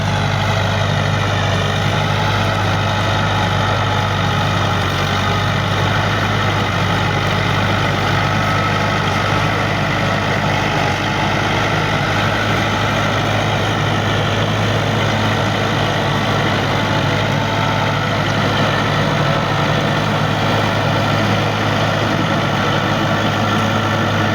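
A Massey Ferguson MF 285 tractor engine with a 54-blade rotavator runs steadily at idle, a loud, constant low rumble with no break.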